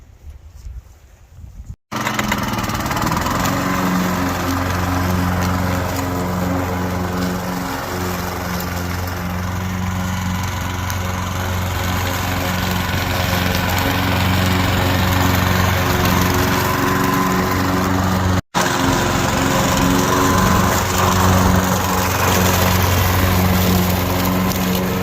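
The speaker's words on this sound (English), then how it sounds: "This is a Husqvarna 42-inch riding lawnmower." A Husqvarna 42-inch riding lawnmower's engine runs at a steady loud drone with a deep, even hum, close by and continuous apart from two brief cuts, with no talk over it.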